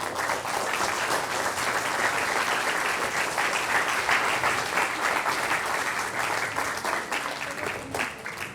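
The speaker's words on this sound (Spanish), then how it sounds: "Un aplauso, por favor." An audience bursts into sustained applause, dense clapping from many hands holding steady for several seconds before thinning out at the end.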